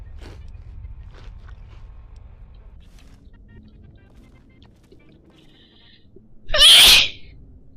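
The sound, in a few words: sneeze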